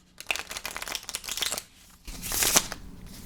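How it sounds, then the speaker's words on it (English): A deck of playing cards is quickly shuffled for a game of faro, with crisp riffling bursts close up, a brief pause, then a louder riffle and bridge, no talking. "Just do a quick shuffle here for the purposes of demonstration."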